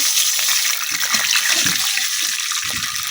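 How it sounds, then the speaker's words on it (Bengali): A little water poured into a hot pan of fried onion and garlic for a winter vegetable curry with dried mola fish, a loud steady hissing gush with sputtering splashes for a few seconds. "এখন আমি দিয়ে দিতেছি অল্প একটু পানি"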